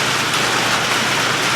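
Rain falls steadily outdoors on a farm, a dense close hiss of drops on surfaces that stays even throughout, with no voices.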